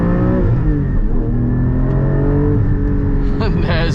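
A manual Porsche 718 Cayman GT4 revs up after a downshift, its engine note climbing in steady rising harmonics, loud and close from inside the cabin, with a brief shift blip near the end.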